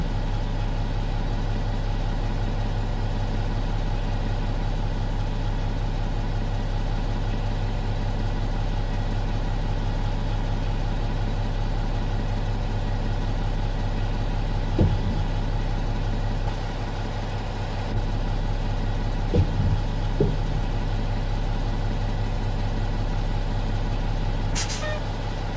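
Steady low rumble of a Peterbilt 389 truck engine idling in a truck simulator while hauling a B-double trailer, continuous and even, with a few brief clicks and an air hiss near the end.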